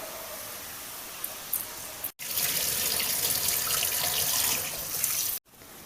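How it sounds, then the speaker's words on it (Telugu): Tap water pours steadily into a cooker pot to wash two glasses of rice, a loud, even rush that starts abruptly after a short pause and cuts off sharply near the end. "ఇప్పుడైతే రైస్ కడుక్కున్నాం."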